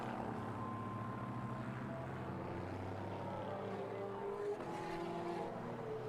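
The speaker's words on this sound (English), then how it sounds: "So last few cars coming home." GT race cars from the Japan Cup at Suzuka, including a Ferrari, roar past as the last finishers come home, sustained engine drones rising and falling in pitch with passing cars over a steady circuit ambience.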